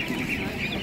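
Poultry clucking among a crowd at an animal market selling ducks, geese and other fowl, a steady dense murmur of hens and birds close by with faint chatter mixed in.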